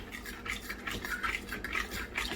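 Egg and vanilla batter for French toast is mixed in a bowl, giving soft repeated swishing and light clinks of a utensil against the dish, close by and fairly quiet, with no voices.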